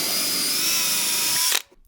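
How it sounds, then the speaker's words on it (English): A power drill whines steadily at close range as it bores a hole for a motorcycle tank bag base, using the bit from the kit. It stops abruptly near the end. "Then using the drill bit provided in the kit, drill out the 4 outer holes."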